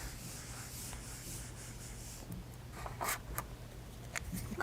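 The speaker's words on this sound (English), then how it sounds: "I'll go ahead and erase this." Writing is erased from a board with soft, close rubbing and scattered brushing strokes, growing slightly louder toward the end.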